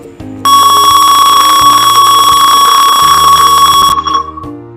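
A piezo buzzer sounds in a simulated Tinkercad temperature-sensor circuit. A loud, steady, high-pitched electronic tone starts suddenly, holds for about three and a half seconds, then cuts off.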